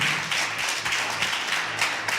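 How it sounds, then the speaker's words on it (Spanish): A church congregation claps and applauds in praise, a steady dense wash of many hands at moderate loudness, continuous for the whole stretch with no voices standing out. "Alguien puede darle un aplauso al Señor"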